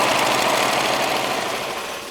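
A sewing machine runs a steady, continuous whir as it stitches a flat felled seam in hammock tarp fabric, loud and close, with no break throughout.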